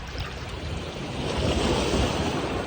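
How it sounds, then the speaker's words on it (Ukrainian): Waves washing onto a shore with a steady hiss of surf, swelling slightly louder midway, wind noise buffeting throughout. "цей звук моря"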